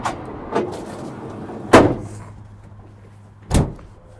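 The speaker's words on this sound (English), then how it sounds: "you put the bed slide in there, pull out, use what you need to do, and then you can just put it away" A bed slide in the bed of a lifted Ford F-250 truck gives three separate hard clunks, a light one and then two heavy thuds spaced about two seconds apart, with quiet gaps between them.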